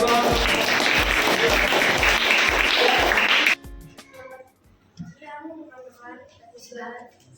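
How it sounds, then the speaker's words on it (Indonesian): A classroom of primary school children clapping together, a dense burst of applause lasting a few seconds and stopping abruptly, followed by someone speaking. "Berikan aplaus."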